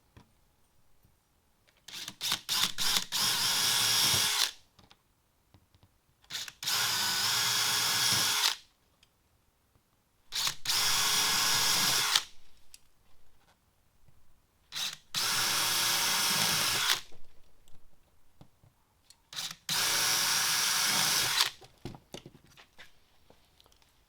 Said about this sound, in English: We've got just a couple of holes to drill.